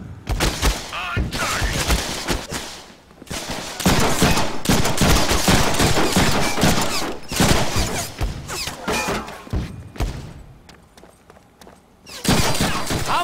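Gunfire in the Deadpool video game: loud, dense bursts of rapid shots in long volleys broken by short pauses, with voices talking between them.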